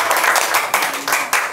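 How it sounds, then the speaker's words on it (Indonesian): Brief burst of classroom applause from a group of fifth-grade pupils for two classmates, a short flurry of clapping that rises and falls in quick waves. "Tepuk tangan untuk Osa dan Salma."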